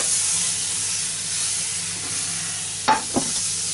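Butter sizzles in a hot frying pan for an English breakfast, a steady close hiss of frying with a couple of brief sharp clatters from a utensil near the end.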